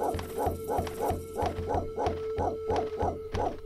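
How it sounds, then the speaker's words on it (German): A dog in the PlayStation game Lucky Luke barks in a steady, even rhythm, about ten identical woofs repeating without a break over a low game backdrop. "Hör ja auch gar nicht mehr auf zu bellen."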